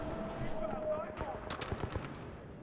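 Gunfire in the video game Titanfall 2: a short burst of rapid shots rings out midway over steady game noise, with a player's voice heard in the mix.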